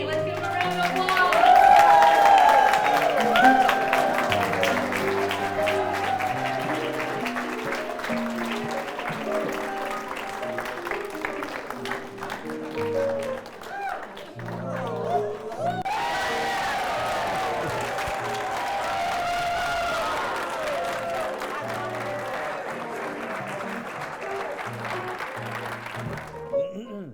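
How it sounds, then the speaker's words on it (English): An audience applauds and cheers for the performers Morgana and Denny at a live show, a sustained wash of clapping that swells at the start and runs throughout beneath loud music. "Let's give them a round of applause."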